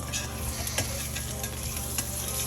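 A frozen Cajun fish fillet fries in a little oil in a pan, a dense continuous sizzle, close and even, with a few faint clicks and no talking.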